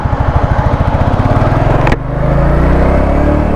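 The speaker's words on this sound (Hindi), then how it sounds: "अब हम लोग करते हैं गाइस बाइक की टॉप स्पीड टेस्ट" A Royal Enfield Classic Dark 350 motorcycle accelerates hard from a standstill in first gear with eco mode on. Its single-cylinder thump speeds into a steady loud drone, then a brief shift gap follows and the engine holds a lower, smoother roar.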